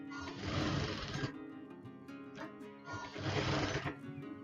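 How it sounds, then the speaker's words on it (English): A sewing machine stitches seams in non-woven fabric for a bag, running in two steady, fairly loud bursts with a short pause between them. "Now you're gonna be stitching that together."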